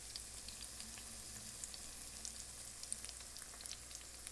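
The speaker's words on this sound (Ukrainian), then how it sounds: "Обсмажуємо кабачки на олії з двох сторін." Zucchini slices fry in oil in a pan, giving a steady, dense sizzle with soft crackles throughout, close and continuous with no voices.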